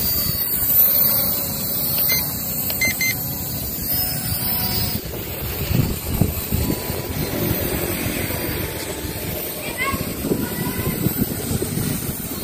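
A Heliway 912 drone flies outdoors in strong wind, its buzzing motors heard amid heavy wind rumble against the microphone, rising and falling over twelve seconds, with a few faint voices in the background.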